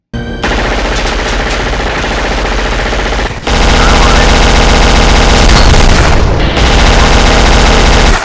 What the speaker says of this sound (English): They actually went so far as to emulate the gun sounds of famous movies, such as Arnold's Uzi in True Lies and Bruce